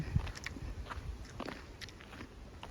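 Someone bites into and chews a crisp apple up close, giving a series of quiet, crunchy bites over faint background noise.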